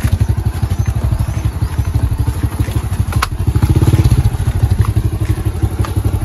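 A motorcycle engine chugs loudly at close range with a fast, steady pulsing beat while riding over a rough road near a river, with occasional clatters and thumps.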